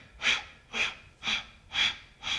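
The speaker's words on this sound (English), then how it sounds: "baby pulses, sharp exhale," Yoga breathwork with sharp, forceful exhales through the nose and passive inhales, five evenly spaced breathy pulses about half a second apart, close and clear with no talk.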